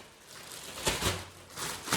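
Black plastic garbage bag crinkling and rustling as it is shaken, with several sharper bursts of crackle, close and moderately loud.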